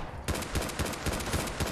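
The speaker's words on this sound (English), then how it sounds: "Stop shooting me!" Enemy gunfire in Fallout 4 crackles in a steady stream of rapid, evenly spaced shots at moderate loudness, running continuously through the short moment with no voices.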